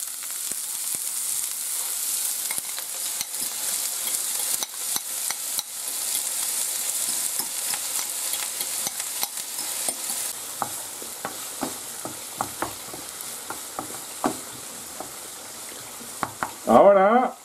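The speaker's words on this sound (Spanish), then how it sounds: "Ya se ha calentado el aceite y echamos la cebolla" Onion frying in hot oil in a pan for a zucchini and potato tortilla: a steady high sizzle throughout, broken by scattered stirring scrapes and clicks, with a louder clatter near the end.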